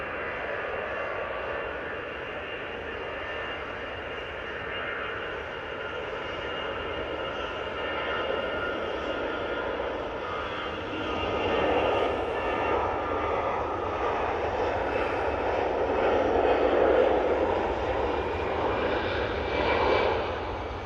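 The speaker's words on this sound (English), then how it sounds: "we've got this Easyjet now on the roll." EasyJet airliner on its takeoff roll at Manchester Airport, a steady broadband jet engine roar heard from a distance that swells louder midway as the aircraft accelerates and passes, with no talk.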